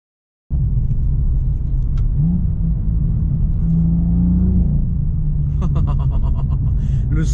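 A BMW M2 engine starts abruptly, then a loud, deep exhaust rumble holds steady with a slight rise in pitch. Sharp crackles and pops break in near the end, recorded up close.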